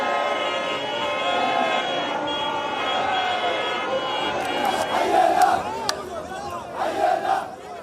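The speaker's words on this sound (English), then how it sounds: "That was the sound of celebrations in Turkey and in Greece." Crowds in Turkey and Greece celebrating the fall of the Assad regime, a dense roar of many voices with cheering and shouts building in surges, plus horn-like tones and a sharp bang partway through.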